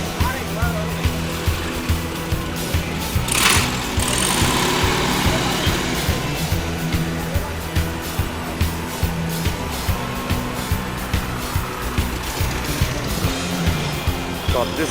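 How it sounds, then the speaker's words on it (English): A vintage Volkswagen drives into an outdoor vintage car show, its engine a steady, loud rumbling drone with regular pulses that carries through the whole stretch while a person talks over it. "we got another vintage Volkswagen coming in here."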